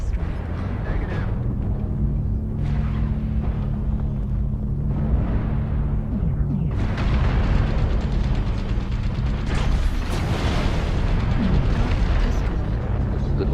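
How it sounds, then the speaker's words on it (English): Artillery strike explosions in MechWarrior Online, a heavy continuous rumble with a low droning hum and several bursts of booming blasts that swell and overlap, loud and close, with no speech. "Artillery strike online"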